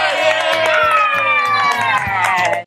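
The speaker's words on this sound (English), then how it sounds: "We're all going to cheer" A family cheers and shouts excitedly for a young boy, with overlapping high voices and yells filling the room loudly throughout.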